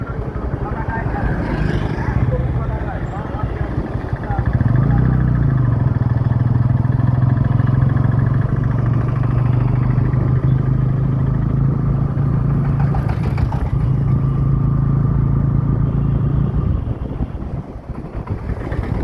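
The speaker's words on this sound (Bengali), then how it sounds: "কিন্তু আজকে প্রচুর জ্যাম আছে রাস্তাতে" Engines of cars and motorcycles idle and creep in a road traffic jam near Gaighata, with a steady low drone that swells in the middle and continues under talk.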